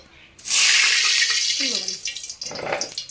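Water pours out of a basin in a loud, rushing splash that tails off into softer trickling, with a brief voice underneath partway through.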